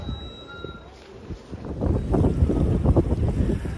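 Gusty seaside wind at Swansea buffets the microphone in a rising, rough roar that grows louder through the second half.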